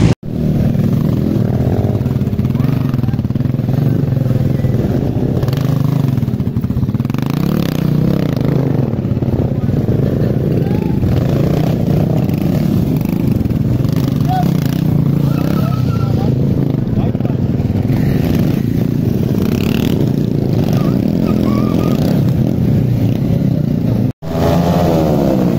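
Stunt motorcycles doing freestyle wheelies, stoppies, drifts and burnouts rev and roar without a break for about 25 seconds, loud and close, with engine pitch rising and falling amid outdoor event noise.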